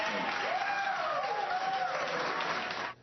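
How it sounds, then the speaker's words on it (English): Town hall crowd cheering and applauding, a sustained wash of clapping with rising whoops and shouts, fairly loud throughout before cutting off abruptly at the end. "ended with a cheering crowd, as you heard there"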